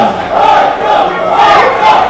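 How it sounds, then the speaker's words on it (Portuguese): A loud football crowd at a Formosa versus Taguatinga match chants in unison, calling for player number 8 to come off, the massed voices swelling in steady rhythmic waves. "a torcida pede para o número 8 sair"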